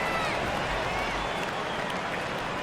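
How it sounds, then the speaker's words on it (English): Arena crowd applause and cheering from the basketball video game NBA 2K24, a dense, steady roar of clapping and noise at a distance, with faint commentary mixed underneath. "Please give a big round of applause."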